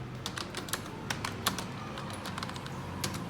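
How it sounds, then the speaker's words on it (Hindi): Someone types on a computer keyboard, a quick uneven run of crisp key clicks and taps, close and clear, with no voices. "कुछ मैंने यहाँ पे टाइप किया भिवानी पब्लिक स्कूल"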